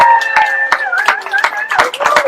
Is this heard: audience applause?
yes